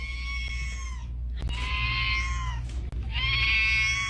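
A kitten meows three times, long drawn-out vocal cries with wavering pitch, close and clear, separated by short pauses and a couple of small clicks.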